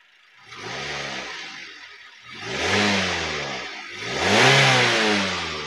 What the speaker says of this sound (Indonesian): Nah coba kita sedikit geber, kita dengerin suaranya ya.